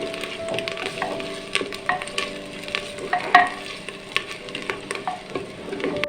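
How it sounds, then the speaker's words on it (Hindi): Crushed ginger and garlic frying in a pot while being stirred for a Kari Handi, a steady sizzle with scraping stirs and small crackles, no talking. "अब इसमें मैं डालूँगा 2 टेबल स्पून अदरक लहसुन है, ये कूटा हुआ है, इसको भी थोड़ा सा फ्राई करेंगे।"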